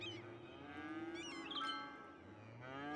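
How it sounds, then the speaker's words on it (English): A cow in the city-building game Cities: Skylines moos in a single long, drawn-out low call with a rising, wavering tone, clear and fairly close, with faint game ambience behind it. "Wandering cow"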